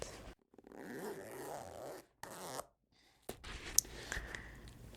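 A long zipper running down the middle of a pair of soft boots gets handled in short, close bursts of rasping and rustling, separated by brief silences, with one sharp click near the end.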